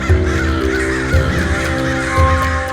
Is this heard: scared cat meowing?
no